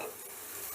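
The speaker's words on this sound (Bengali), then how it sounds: "এবার বাঁধাকপিটাও মশলার সাথে বেশ ভালো করে কষে নেব" Cabbage frying with spices in a pan gives off a close, continuous sizzle with a light stirring scrape, brief and even, with no voices.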